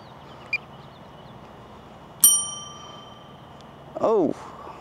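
A DJI Avata 2 drone flown in manual mode crashes with one sharp, loud impact that rings out briefly with a metallic tone, followed a couple of seconds later by a short burst of voice.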